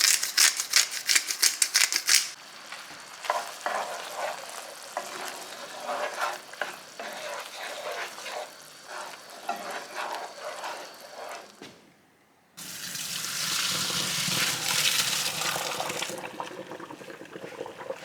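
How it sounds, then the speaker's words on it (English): Heavy whipping cream with salt, smoked paprika and black pepper simmering and reducing in a pan, a steady close sizzle and bubbling, louder toward the end, with no one talking. "Add heavy whipping cream, salt, smoked paprika, and black pepper, and let it reduce for 5 minutes."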